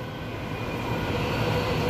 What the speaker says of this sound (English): Oh, non-service train.